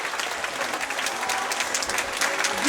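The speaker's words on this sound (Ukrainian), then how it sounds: "Аплодисментами гучніше їх підтримуємо!" Audience applause at a folk music concert fills the hall, a dense, steady wash of many hands clapping that swells slightly toward the end, with faint crowd murmur beneath.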